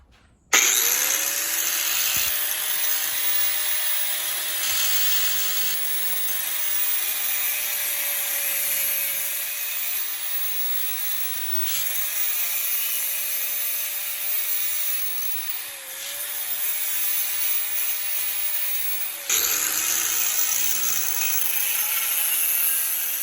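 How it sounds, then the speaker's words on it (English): A grinder cuts a metal part for the clutch of an Echo 266T, a loud, continuous high-pitched whine with gritty abrasive hiss, briefly easing and then surging again near the end. "So I'm going to cut it right about there with the grinder."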